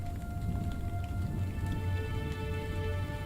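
Arizona monsoon rain falls in the Grand Canyon as a steady, dense patter with a low rumble of thunder underneath, continuous and fairly loud throughout.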